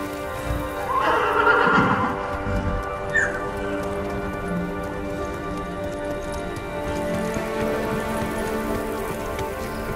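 A horse whinnies loudly near the start in the video game Ghost of Tsushima, followed by a few hoof clops, while steady rain patters across the whole scene.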